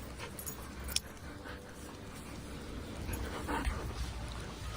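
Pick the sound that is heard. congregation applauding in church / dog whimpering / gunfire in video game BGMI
dog whimpering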